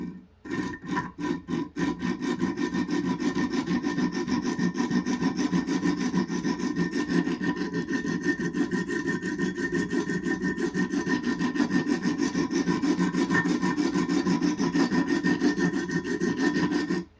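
Steady, continuous rasping scrape of a knife blade stroked across a very coarse 50-grit stone on a Wicked Edge Pro-Pack III sharpener, loud and close, after a few separate strokes at the start.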